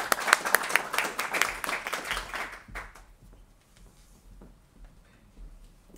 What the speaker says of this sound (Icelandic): Klappum fyrir ykkur.